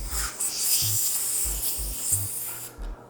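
A valve core tool unscrews the valve core from a tubeless road bike tire, making a close rasping, hissy rub with short low thumps in a loose rhythm before cutting off near the end.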